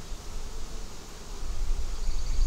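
Dense, steady buzzing of many honeybees in a strong, opened hive, a close, continuous drone that grows slightly louder toward the end, with no talking.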